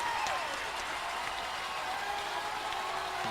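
Crowd at a high school playoff baseball game between the Georgetown Eagles and Wakeland Wolverines applauding and cheering steadily, a dense wash of clapping that holds for a few seconds without letup.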